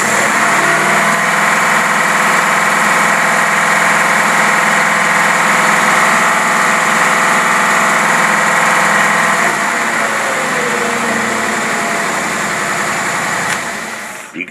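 An outboard boat motor with a faulty carburetor idles steadily, a loud even engine drone with a faint shift partway through before cutting off at the end.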